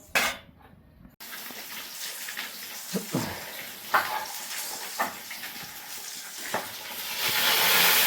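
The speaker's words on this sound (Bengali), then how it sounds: "চলো আগে ফার্স্টে মাছটা ভাজবো" Fish frying in a pan for a home-cooked meal: after a brief quiet start, a steady sizzling hiss takes over, scattered with sharp pops and crackles, and it grows a little louder toward the end.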